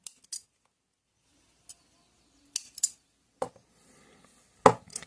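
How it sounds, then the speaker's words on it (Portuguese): Scissors cut yarn threads on a crocheted amigurumi keychain, giving a few sharp, close snips spaced irregularly in a quiet room. "só puxar e cortar os fios"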